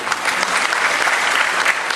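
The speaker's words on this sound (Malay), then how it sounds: "Bagi tepukan" Loud applause from a crowd at a school graduation ceremony, steady clapping filling the whole moment without pause.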